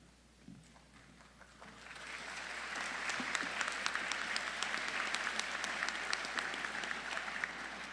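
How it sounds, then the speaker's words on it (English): An audience at a pharmacy hooding and graduation ceremony claps steadily. The applause starts quiet, swells after a couple of seconds and holds as a dense, even roar of many hands, heard from a distance in a large hall. "I know you're all clapping because we're at the home stretch"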